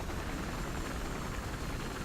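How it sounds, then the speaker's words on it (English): A helicopter flies in the video game Battlefield Hardline, giving a steady broadband rotor-and-engine roar that holds at an even, moderate level the whole time, with no speech over it. "If you see a helicopter in the air, Smokey, that's me."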